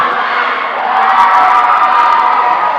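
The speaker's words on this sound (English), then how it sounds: "you can hear the crowd going nuts" A loud crowd cheers and whoops without pause at a skating championship finals day, with a sustained roar that swells slightly toward the middle, and no speech rising above it.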